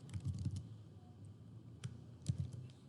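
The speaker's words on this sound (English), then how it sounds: "here I'm going to type my project name." Typing on a computer keyboard while entering a project name: quiet, close key clicks in a few quick clusters separated by pauses, with no speech.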